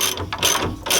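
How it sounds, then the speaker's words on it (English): Ratcheting clicks from a small ratchet on a short extension tightening a spring compressor on the rear suspension of a Mercedes-Benz W140 400SEL, three quick bursts of close, sharp pawl clicks with brief pauses between. "I got their little ratchet, a little short extension. Tighten it up"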